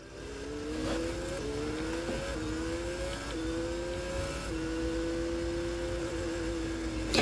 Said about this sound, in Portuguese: Agora eu vou mostrar para vocês aqui como que tá o carro do Alonso